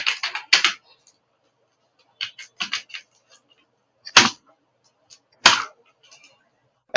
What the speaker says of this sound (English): You need to type the ledger name.